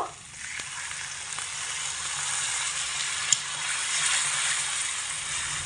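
Pumpkin frying in a pan sizzles steadily after about a cup of water is poured in, a dense, even hiss that swells slightly toward the end, with one faint clink midway.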